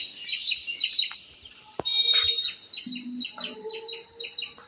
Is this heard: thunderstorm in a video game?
no